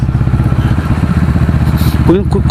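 A Kawasaki ER650N motorcycle idles close by, its muffler giving a steady, loud, low rhythmic exhaust thrum, with a brief voice near the end.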